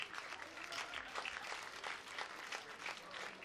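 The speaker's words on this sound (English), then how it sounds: "every hit, every day, every person gives applause" Audience applause breaks out after a hit at a men's trap shooting event, a steady, moderately distant wash of clapping that continues evenly for several seconds.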